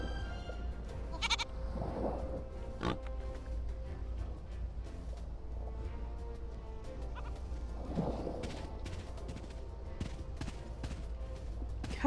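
A goat bleats twice within a video game, the calls fairly close and clear over steady game ambience and scattered clicks.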